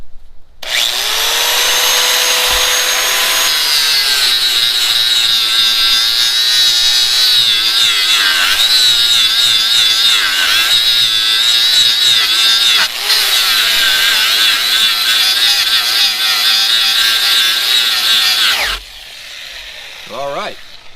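DeWalt power tool runs off a Luby 700-watt portable power station, cutting wood with a loud, steady, close motor whine and grinding for about eighteen seconds, then stops with a brief winding down.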